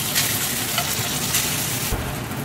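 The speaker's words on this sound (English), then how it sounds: "I don't want to deep fry it. I just want to sear the outside again." Beef steak sears in a hot pan with a loud, continuous close-up sizzle and crackle, briefly shifting in tone near the end, with no talking.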